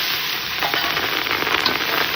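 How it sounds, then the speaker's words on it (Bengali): Fresh green chilies drop into hot oil in a home kitchen, producing a loud, close, steady crackling sizzle that fills the short stretch without talking. "আমি কাঁচা লঙ্কাটা তেলে দিয়ে দিলাম।"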